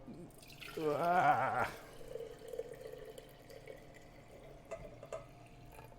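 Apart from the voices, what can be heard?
vinegar, water and salt brine poured into a jar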